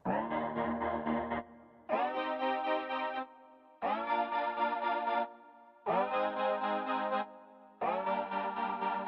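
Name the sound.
synth glide sound from Pure Glide iOS app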